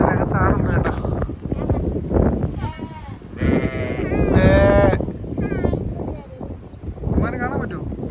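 Goats bleat in a pen in Najran, Saudi Arabia, on a rainy day: a few drawn-out, wavering bleats rise over steady close-up conversation.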